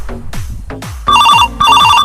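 Telephone bell ringing in two loud, close bursts of trilling rings near the end, preceded by a few sharp knocking thuds.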